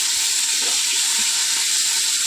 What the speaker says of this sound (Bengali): ফুলকপিটা যতই ভাজছি বন্ধুরা, ততই জল বেরোচ্ছে।